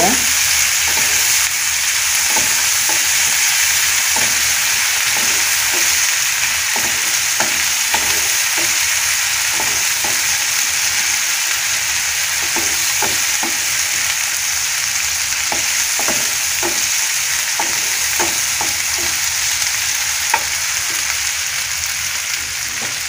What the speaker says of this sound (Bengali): আমি মশলাটা কষিয়ে নিব।